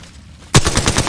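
Apex Legends gunfire opens after a short quiet stretch as a loud, close burst of rapid automatic shots in an even pulsing rhythm.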